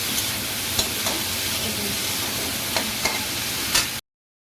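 Sliced snake gourd with salt and turmeric fries in a pan, giving a steady, fairly quiet sizzle with a few brief stirring scrapes and clicks, with no talking.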